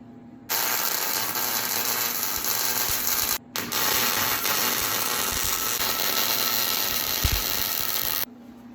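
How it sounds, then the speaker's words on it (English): MIG welding on a homemade forearm blaster prop, a steady loud crackling buzz that runs about eight seconds with one brief pause near the middle, close and continuous with no talking. "Let's weld it."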